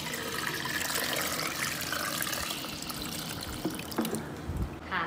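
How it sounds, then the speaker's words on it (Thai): Water is poured into a Telme GEL 5 machine for washing, a steady splashing and gurgling stream that continues throughout at close range, with no talking. "วิธีการล้างเครื่องตัวนี้นะคะเทน้ำลงไปค่ะ"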